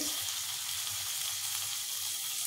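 Marinated fish frying in a hot pan brushed with a little oil, a steady, close, continuous sizzle with no talking.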